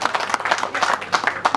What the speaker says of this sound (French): Est-ce qu'on peut applaudir pour les logs?